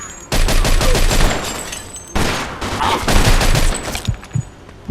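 Gunfire rings out during a shootout in the Mafia II video game. Loud, rapid volleys of shots come in two dense clusters, with scattered single cracks trailing off at the end.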